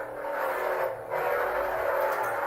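A toy Sith lightsaber, the Emperor's saber, ignites and hums with a dense electric whirring drone that wavers and surges in intensity, dipping briefly before swelling again, close and steady throughout.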